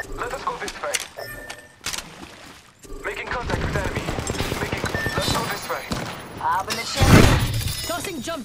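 Gunfire in the battle royale game Apex Legends: bursts of sharp shots and shattering impacts, irregular and loud, with a heavy blast near the end, mixed with game effects and voices talking.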